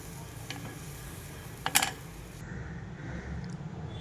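Raisins fry in a hot pan, giving a quiet steady sizzle with light stirring scrapes and a short bright crackling burst near the middle, with no talk.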